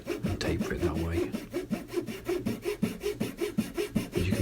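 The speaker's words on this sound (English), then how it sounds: "You can use your saw like I'm doing." A small hand saw cuts with rhythmic back-and-forth strokes, tapering a small wooden part for a scale model of the Yamato battleship; steady close-up rasping with no talk.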